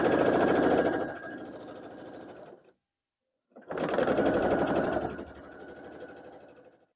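Sewing machine stitching quilt block pieces for a barn star block, with two bursts of rapid mechanical needle chatter, the first fading into slower stitching, separated by a short silent pause.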